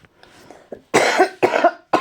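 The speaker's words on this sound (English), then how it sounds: "I was coughing" Three loud, harsh coughs from a nearby person, each a sharp burst with a rough tail, following some quieter breathy throat sounds.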